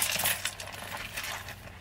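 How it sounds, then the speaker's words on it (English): A wallet and car keys going into a small shoulder bag, giving light metallic jingles and rustling clinks, close and fairly loud, with no talking. "I'm about to put my wallet in here and my car keys."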